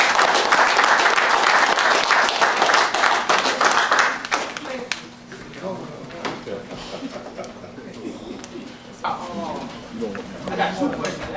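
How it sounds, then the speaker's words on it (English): Audience applause at a church gathering as an elder comes up to speak, loud dense clapping for about four seconds that thins into scattered claps as voices talk over it. "Elder Evans, y'all give him a round of applause as he's coming up."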